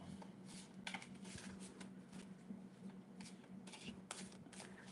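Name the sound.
shuffling tarot cards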